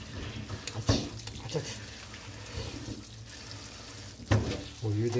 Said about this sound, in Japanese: お湯で土をこれ溶かして流しましょう